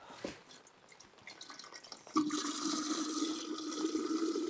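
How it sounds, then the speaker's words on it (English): On a permaculture market garden, water runs into a jar of seeds: a few small drips and clinks, then a steady filling stream that stays fairly quiet and even, with no speech. "add some more water."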